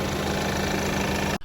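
A Ford Bronco Sport engine idles with a steady, rough clattering rattle like a diesel. It runs close and continuous with no talk, then cuts off abruptly near the end.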